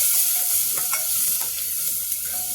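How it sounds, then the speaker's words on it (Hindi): Onion, garlic and badi frying together in a pan for an Indian home-style thali, a continuous close sizzle with soft stirring scrapes. "अब प्याज और बढ़िया हम भून लेंगे।"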